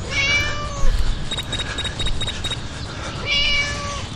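A cat meows twice in the video game Scary Teacher 3D, one drawn-out cry at the start and another near the end, with a string of bright chirpy tones between them over a steady game background.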